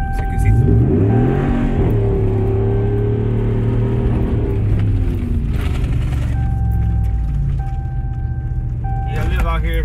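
A RAM 1500 pickup engine revs and accelerates with a loud, rising and falling rumble, a voice heard over it.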